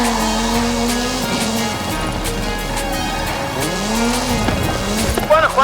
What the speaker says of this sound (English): Hooligan Gymkhana 10 Ford Focus RS RX. 2-litre, turbocharged, front-mounted engine and all-wheel drive.